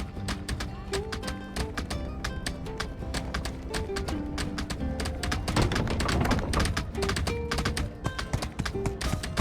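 Horse hooves clip-clop continuously in the My Time at Sandrock video game, a quick steady rhythm of taps layered over bright game music that swells slightly midway.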